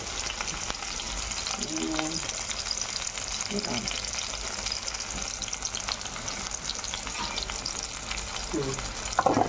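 Chopped onions sautéing in an oiled pan, a steady close sizzle with intermittent scraping from a spoon stirring, continuous throughout without talk.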